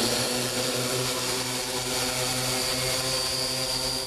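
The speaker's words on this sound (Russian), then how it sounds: "Алматинские студенты тестируют дрон для доставки лекарств." Medicine delivery drone under test by students in Almaty, its propellers producing a steady, loud buzzing drone with layered harmonic tones that holds constant throughout, with no talking.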